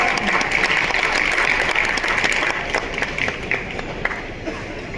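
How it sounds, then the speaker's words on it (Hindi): Crowd at a public event applauding minister Sirsa, a loud, dense burst of many hands clapping that holds steady and then eases slightly toward the end. "एक बार जोरदार तालियां बजाओ"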